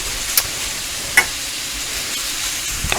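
Chicken pieces fry in oil with garlic in a pan, giving a steady soft sizzle with a couple of brief crackles and pops, close and even throughout.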